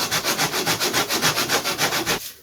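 Sandpaper rubs back and forth on the balsa wing of a pre-WW1 model aircraft near the leading edge, in quick, even, close strokes of about five per second, then stopping abruptly.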